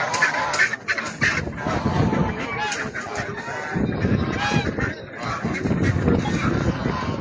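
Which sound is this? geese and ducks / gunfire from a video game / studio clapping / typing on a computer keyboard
geese and ducks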